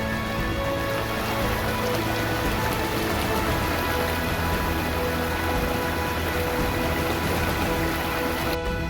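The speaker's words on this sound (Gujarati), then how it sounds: "મોજ પડી જાય એ લેવલનું પાણી અહીં ઝરણા વહી રહ્યા છે" A monsoon mountain stream flowing through forest, a loud, dense rush of water that fills the whole stretch without pause.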